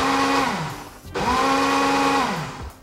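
A blender whirs loudly through baked-oats batter with milk, vanilla and honey, two close bursts with the motor pitch rising and falling and a brief pause between them.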